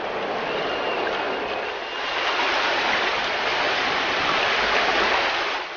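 Water of the Kaveri river flowing steadily in a broad, continuous rush, loud and close with no pauses and no voices.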